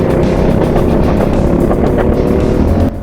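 Racing kart engines at a GX-UK kart race at Rowrah give a loud, close, continuous buzzing snarl with rapid pulsing, holding steady throughout before dropping slightly at the very end.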